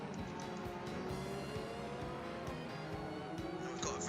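Formula One race car engine from a racing video game, a 1980 car driven as Alan Jones at a Miami Grand Prix, droning steadily in second gear with shifting harmonic pitch, close and continuous, with some tire noise underneath.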